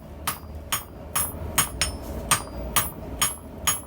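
Hot steel being forged into a small cone mandrel on an anvil, struck with a hammer about twice a second in a steady run of sharp, ringing blows while the piece is rotated in prototype tongs.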